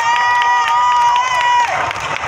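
Large crowd at an anti-racism Black Lives Matter protest in Ottawa, cheering and shouting loudly and continuously, with rhythmic claps and a sustained whistle-like tone over the roar.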